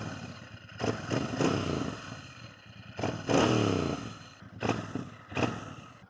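A stock-exhaust 2025 Royal Enfield Bear 650 motorcycle rumbles and revs on the road, its engine note rising in several strong throttle swells and dropping back between them, close and loud, with no talk.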